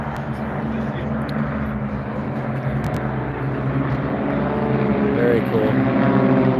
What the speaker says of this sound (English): All right, so the planes are coming back across here